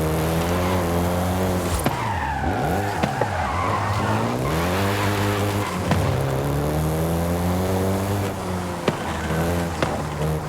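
A Volkswagen Golf GTI is driven hard in Forza Horizon 5, its engine revving up and down through gear changes while tires squeal and skid, loud and close for the whole stretch.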